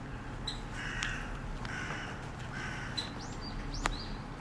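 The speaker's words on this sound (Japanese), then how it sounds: "あそこのカラスが威嚇してきてるんですね" Several harsh, threatening crow caws directed at a nearby eagle-owl ring out at intervals over quiet outdoor ambience on grass, moderately distant, with a few sharper calls near the end.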